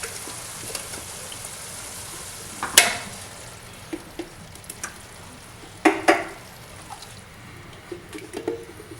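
Crushed tomatoes are stirred into a bubbling beef ragu, with a soft simmering hiss under scattered spoon scrapes and clanks against the pot, a few louder knocks standing out.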